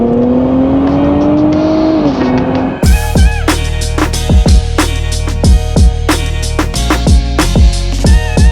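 A 2023 Nissan Z pulls hard under acceleration, one long engine run that starts as a steady droning tone and then sweeps upward through rapid rising harmonics. The engine is close, loud and alone, with no talking.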